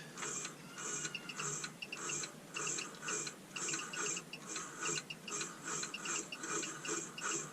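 A wood lathe turns a rough bowl blank slowly at 100 RPM, giving a faint, steady run of rhythmic clicking and ticking with no talk.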